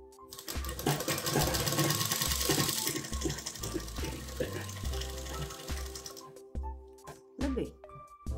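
A sewing machine stitches a button placket on a designer top, running in a steady rapid whir of needle strokes that stops and starts, with quiet handling noises in the pauses.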